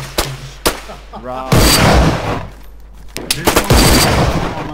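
SVD and AK101 rifles fire in a video game: sharp, loud reports arrive singly and in short bursts, with brief pauses between them.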